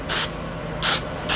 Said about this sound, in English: I'm gonna take a little bit of frosted glass and I'm gonna spray